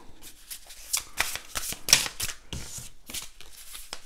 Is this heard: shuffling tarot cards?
yes